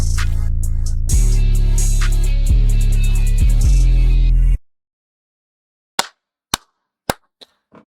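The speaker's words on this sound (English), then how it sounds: "Listen to this beat." Hip-hop beat from a song, with a heavy sub-bass line and crisp hi-hats that cut out abruptly midway, followed by a few sharp isolated snaps and pops spaced apart over silence.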